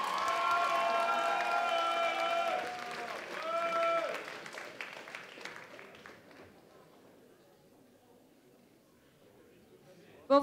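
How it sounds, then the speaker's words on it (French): Audience applause at a cosplay contest, loud clapping with a presenter's voice over it for about four seconds, then fading to scattered claps and quiet room noise. "On l'applaudit encore bien fort."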